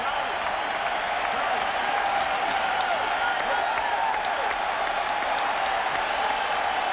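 A baseball stadium crowd at a 2001 playoff game between Oakland and New York roars and applauds in a dense, sustained wall of cheering that stays loud throughout, with voices mixed in.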